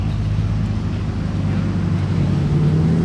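A Ferrari Enzo arriving at Circuit Paul Ricard, its engine a steady low rumble building slightly toward the end, heard at close range over wind and ambient trackside noise, with no talk.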